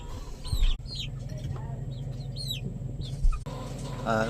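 Two-month-old chickens clucking and chirping close by in a pen, a steady mix of short calls over a low constant background hum, with a brief louder knock in the middle.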